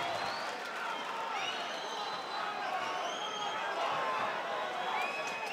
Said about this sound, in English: So, Chris, listen to that crowd.